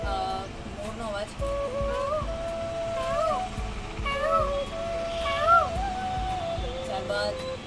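A voice mimics a peacock's call, producing several nasal, wailing rising cries spread across a few seconds, close-up and moderately loud against a steady background of crowd noise.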